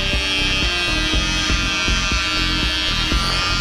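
Electric hair clipper buzzing steadily and loudly while shaving the side of a man's head during a men's haircut, its motor hum pulsing with short regular strokes, no voices over it.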